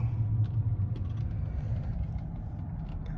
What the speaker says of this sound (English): now we're driving the 2006 Jaguar Super V8 portfolio